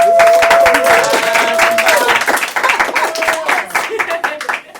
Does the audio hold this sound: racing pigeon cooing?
no